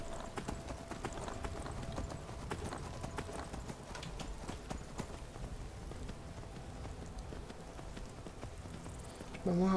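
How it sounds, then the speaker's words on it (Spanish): A horse gallops at a sprint in the Skyrim video game, its hooves drumming in a fast, steady clip-clop that runs throughout at moderate volume. "Y el caballo tiene sprint, que es como correr rápido."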